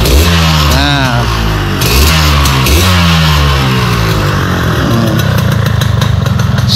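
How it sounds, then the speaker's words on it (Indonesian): A 1996 Yamaha RX King Master two-stroke motorcycle engine fires up and revs loudly and close by, its rough, buzzing idle rising and falling through several throttle blips. "Coba kita nyalakan ini mesinnya pun."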